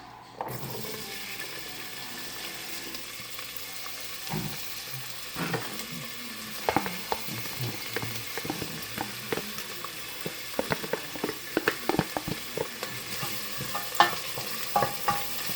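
Diced onions sizzle and fry in a pot for chili, a steady close crackle punctuated by scraping stirring clatters that grow busier over time, with no voices.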